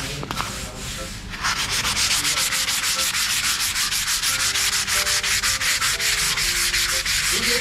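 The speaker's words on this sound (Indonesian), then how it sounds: "Jadi ngamplasin nih pakai sendal itu." Rapid, rhythmic hand sanding of car paint using a sandal scrapes against the surface up close, a steady rasping back-and-forth that continues without pause.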